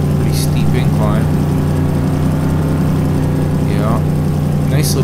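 A Hummer H1 truck engine in Farming Simulator 2015 holds a steady, loud drone throughout, with a faint whine rising and falling at moments.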